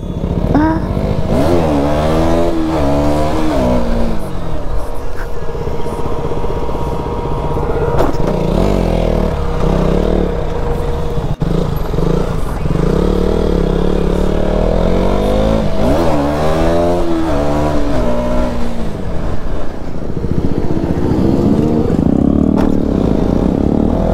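A Kawasaki Z900 motorcycle engine revs loud and close, rising and falling in repeated pitch sweeps as the rider pulls wheelies, with a steady roar filling the whole stretch.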